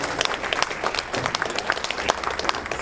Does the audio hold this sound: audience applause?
yes